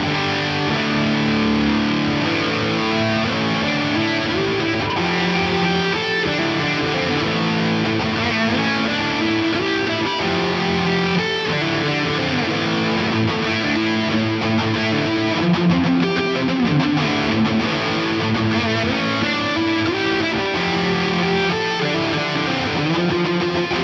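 Electric guitar through a Darkglass Anagram amp modeler set to a darkened, reduced-treble distorted tone with reverb off and a noise suppressor, playing dense sustained riffs and chords loudly and continuously.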